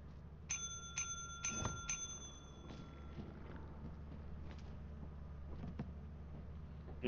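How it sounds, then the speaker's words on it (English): A bell rung in the Lethal Company video game gives several quick bright dings early on, then fades under a low background rumble with faint scattered clicks. "I already rang the bell, so be careful."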